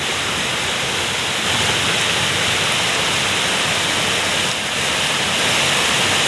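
Heavy rain pours down steadily in a dense, constant roar with no breaks, loud and close, with no voices.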